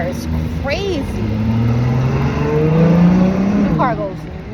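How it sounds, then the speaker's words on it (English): A car engine revs and accelerates on a road, its rising pitch sweeping up over several seconds, heard from a bicycle amid steady road and wind noise, with brief voice-like sounds at the start and end. "The car goes nuts."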